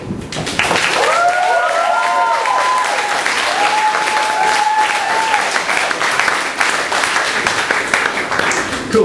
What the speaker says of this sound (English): can we get another round of applause for both our actresses?